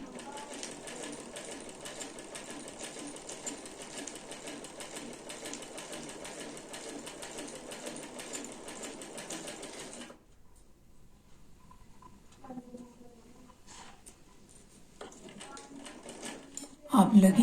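Sewing machine stitching the side slits and hem of a shirt, running in a steady, fast, continuous whir for about ten seconds, then stopping, followed by a few short faint bursts of stitching and a voice at the very end.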